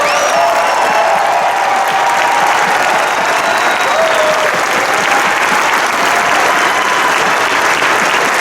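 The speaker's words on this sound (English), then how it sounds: "if y'all could please just join me in a round of applause to appreciate these guys" Audience at the Arnold Classic 2017 bodybuilding award ceremony gives a sustained round of applause, dense and steady throughout with faint cheering and whistles mixed in.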